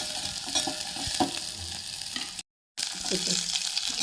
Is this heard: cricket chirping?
no